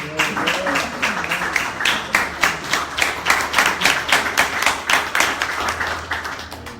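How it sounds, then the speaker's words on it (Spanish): A church congregation claps together during a Spanish-language sermon, the hand claps loud and close and falling into a quick, roughly even rhythm that carries through to the end. "Denle un aplauso al Señor."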